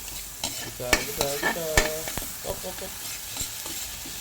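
Adobong kangkong (water spinach) being sautéed in a pan, with a run of close scraping stirs over a soft sizzle and a brief spoken word.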